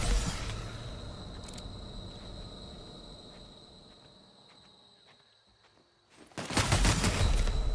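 A weak gun fires in The Outer Worlds: sparse clicks and pops trail through quiet ambience, then a sudden loud burst of gunfire erupts near the end.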